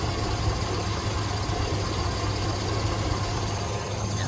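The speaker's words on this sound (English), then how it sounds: "She's not right, not running right. It's got, the fuel pump's working, it's just the lifters are bad." Ford Powerstroke truck engine idling roughly with bad lifters, a steady close-up rumble with an uneven, shaking vibration, alone without talk.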